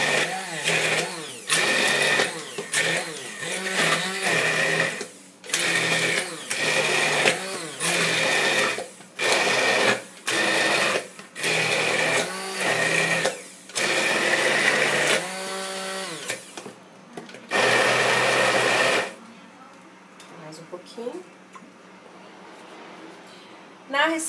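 Arugula pesto with olive oil whirs in a blender in loud repeated bursts of whining motor noise, pulsed on and off with short pauses, then a longer run before it stops.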